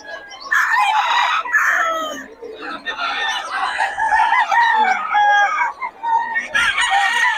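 Several roosters (stags) at a Bocaue market crow and cluck nearly continuously, loud and close, with overlapping calls from different birds throughout.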